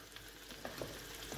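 Diced tomatoes go into a pan over potatoes and sizzle steadily at close range, with soft stirring scrapes and faint crackles and no talking.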